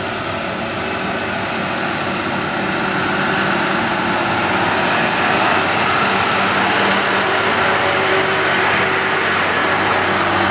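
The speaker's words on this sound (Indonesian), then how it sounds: "Bareng-bareng kita doain agar 6x2 220 PS Fuso ini selamat ke atas tanjakan" A Fuso 6x2 220 PS truck grinds up a steep uphill grade, its engine a steady, loud low drone with broadband road and wind noise throughout, no voices.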